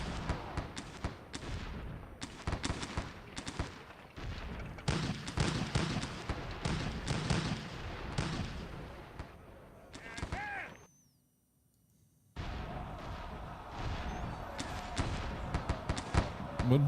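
Regiments of Civil War infantry trade musket fire in Sid Meier's Gettysburg, a dense crackle of volleys and scattered shots that runs on under a talking voice, drops to silence for a moment, then resumes.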